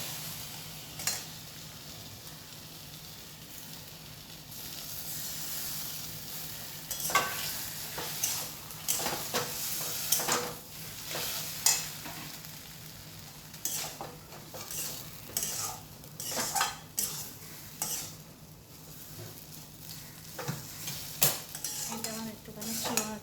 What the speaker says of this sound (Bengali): সেই সর্ষেটা আমি এখানে গ্যাসটা কমিয়ে বাটিয়ে দেবো।